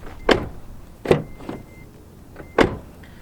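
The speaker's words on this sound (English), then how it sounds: "Now we're gonna go ahead and open and close the door." A car door fitted with Noico sound deadening is opened and shut several times, each time with a short, loud thud in an uneven rhythm, close to the microphone and with no talking.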